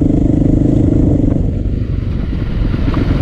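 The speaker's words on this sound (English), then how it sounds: "if you wanna turn the throttle a little, I don't know, like an eighth turn more," A 2023 Beta 430 Race Edition dirt bike engine drones steadily and loudly at moderate throttle, a continuous low rumble with slight clatter as the bike rides through muddy terrain, with no talk.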